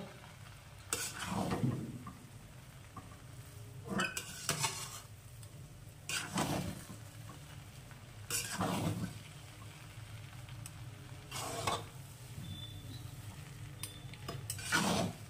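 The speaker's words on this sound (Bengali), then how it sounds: "এরকম হালকা হাতে আমি চিনিটাকে পুরো মিশিয়ে দেব।" Sugar gently folded into Bengali vegetable bhuna khichuri in a pan: slow, evenly spaced spoon scrapes roughly every two seconds over a faint, low sizzle, quiet and close, with no speech.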